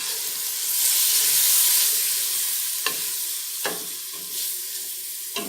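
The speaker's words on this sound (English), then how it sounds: "And we're going to give this a good stir." Onions, ginger, garlic and curry powder fry in a pot for Durban lamb bunny chow, a broad steady hiss of sizzling with a few sharp scraping stirs near the end, close by and free of talk.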